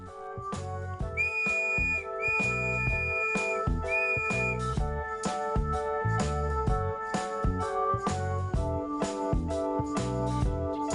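A handmade wooden whistle gives repeated piercing blasts, some short and some held, loud and close over a steady backing of music.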